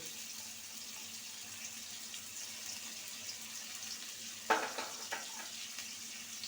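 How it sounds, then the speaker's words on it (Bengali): New winter potatoes with salt and turmeric frying in a pan, a low steady hiss with a sudden sharper sizzle and a few stirring scrapes near the end. "আলুটাকে সুন্দর করে ভেজে নেব"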